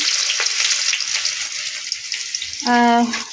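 Chopped garlic and onion sizzle and fry steadily in a hot pan for a dish of data shak (amaranth greens), with a brief tonal hum rising near the end.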